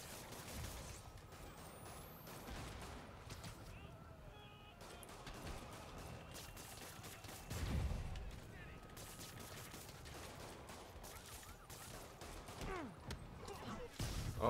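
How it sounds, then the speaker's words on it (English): Enemy gunfire during a Spider-Man PS4 combat fight, rapid bursts of shots scattered through a busy, quiet game mix of city noise and action effects, with a heavier thud midway and occasional talk over it. "Oh gosh, he's shooting at me."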